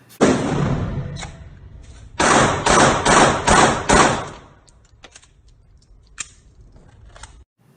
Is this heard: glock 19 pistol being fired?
yes